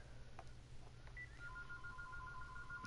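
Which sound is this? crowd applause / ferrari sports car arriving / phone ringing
phone ringing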